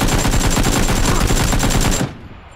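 Rapid automatic gunfire rattles in a PUBG match, a loud, steady burst of shots lasting about two seconds before cutting off into quiet.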